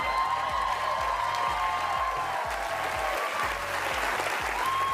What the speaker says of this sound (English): Now, the crowd went nuts.